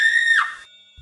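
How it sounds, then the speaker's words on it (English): A single loud, eerie scream sound effect rings out as a shrill, piercing tone, bends downward partway through, then cuts off sharply, leaving near silence. "I then heard the same eerie scream."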